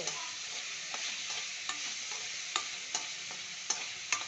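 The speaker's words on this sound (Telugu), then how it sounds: "కలుపుతూ ఉండాలండి, మళ్ళీ మాడకుండా." A wheat flour and potato curry is stirred in a hot pan, a spoon scraping in a steady rhythm of clicks over a continuous close sizzle of frying, with no one talking.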